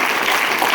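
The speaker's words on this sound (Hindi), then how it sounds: "शानदार तालियों के बीच में आप एक्साइटमेंट दिखा सकते हैं" Dense audience applause welcoming a speaker at an evening event, a continuous wash of many hands clapping at steady loudness throughout, with no voices standing out.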